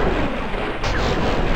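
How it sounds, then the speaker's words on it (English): Explosion in the video game Fallout New Vegas, a loud, heavy rumbling blast that fills the whole stretch with dense noise and keeps roaring without fading. "Oh, that explosion was real."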